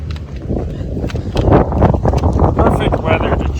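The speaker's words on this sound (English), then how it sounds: "It's windy." Strong wind buffeting outdoors at night in extreme cold, gusting roughly against the microphone and swelling louder toward the middle.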